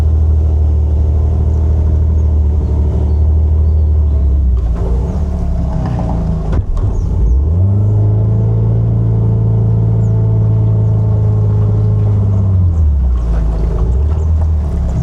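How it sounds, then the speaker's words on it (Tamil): A boat motor on the Mathuganga river in Sri Lanka rumbles steadily and close, its low drone swelling partway through as another boat draws near, with no talking over it. "இதில் பார்த்தீங்கன்னு சொன்னால் அங்கே இருந்த இன்னொரு போட் ஒன்று வருது"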